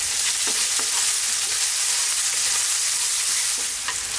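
Eggplant with black pepper frying loudly in a pan, a dense continuous sizzle broken by repeated scraping strokes of a spoon stirring the pieces, with no voices.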